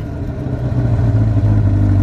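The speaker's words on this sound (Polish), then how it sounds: "Odpalimy samochód" A sports car engine fires up and settles into a deep, steady rumbling idle in normal mode, loud and close, with no voices.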